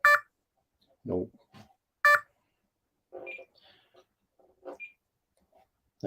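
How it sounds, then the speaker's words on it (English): Radio-controlled model emitting a handful of short electronic beeps, spaced irregularly with brief pauses between, close and clear against a quiet background. "I got the beeping to stop."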